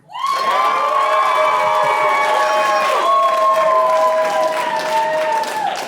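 A comedy special audience in Sacramento cheers, whoops and applauds loudly and continuously, with shouting voices layered over the clapping.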